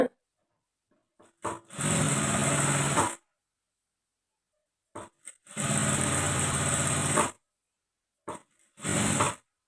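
Sewing machine stitching a blouse runs in three bursts: two long steady whirring runs of about a second and more, then a shorter one, separated by silences with small clicks of handling.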